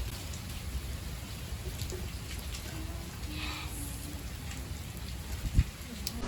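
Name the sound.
rain falling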